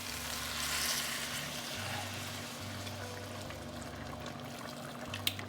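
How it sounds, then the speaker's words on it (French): Boiling water poured into a casserole holding browned chicken juices, a broad steady sizzling hiss with a pouring rush over a low hum, fairly constant, with a small sharp knock near the end. "je vais mettre l'eau bouillante comme ça"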